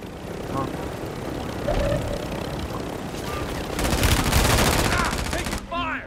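Rapid bursts of gunfire from a Call of Duty Resurgence match, with a helicopter nearby, grow loudest and densest near the end. Players talk over the shooting.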